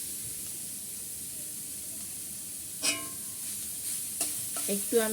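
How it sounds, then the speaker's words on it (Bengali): Grated papaya is stirred in a pan for a bread roll filling, giving a soft steady sizzle with scraping stir strokes near the end. A few words are spoken over the cooking. "সবগুলো নেড়ে চেড়ে মিক্স করে দিচ্ছি"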